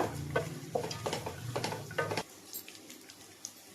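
Freshly crushed garlic sizzles and is stirred in a pan, with steady scraping and frying crackle close by, ending abruptly into near silence with a few faint ticks.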